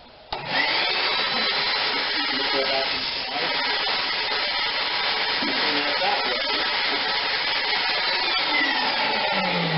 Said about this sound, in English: you can just take your vacuum cleaner and go back and forth along the fins